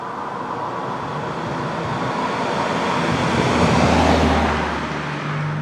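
Morgan Roadster fitted with a Ford Cyclone engine starting up and settling into a steady idle, a broad continuous rumble that swells slightly midway with a low droning tone, heard close with no talking.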